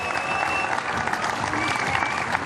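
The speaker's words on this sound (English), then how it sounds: "in second place, an even bigger round of applause, please, for Jody Beutel." Crowd applause for the second-place finisher at a STIHL Timbersports Australian Trophy competition, a loud continuous wash of clapping close up with cheering mixed in throughout.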